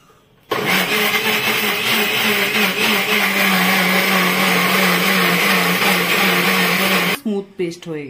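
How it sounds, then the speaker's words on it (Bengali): Mixer grinder blending mango pieces with a little water into a smooth paste, starting abruptly into a loud, steady whirring roar that runs for about seven seconds, then cutting off and winding down. "মিক্সিতে দিয়ে পেস্ট করে দিব, একদম স্মুথ পেস্ট করব"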